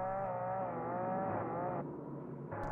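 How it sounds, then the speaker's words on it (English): A steady, whiny electric motor hum from a drone in a video game, with a wavering pitch like a small remote-control car, dipping briefly before revving back up. "I sound like an RC car."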